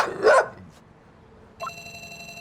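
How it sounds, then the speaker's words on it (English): A dog barking in a video game, one short sharp bark at the start followed by quiet, then a sustained electronic tone entering near the end. "Another sound. This time, it's dog barking. It's only a faint sound."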